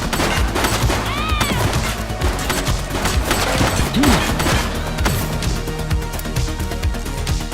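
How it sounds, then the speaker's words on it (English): Rapid gunfire bursts crackle through a noisy police action scene in The Precinct, dense and continuous over rumbling background sound, with a brief siren-like sweep partway through. "She's shooting!"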